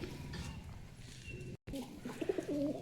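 Pigeons coo softly in low, rolling calls, quiet and close, with a brief dropout partway through before the cooing resumes.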